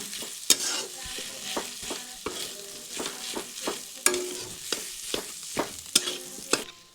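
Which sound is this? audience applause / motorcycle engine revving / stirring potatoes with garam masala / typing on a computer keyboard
stirring potatoes with garam masala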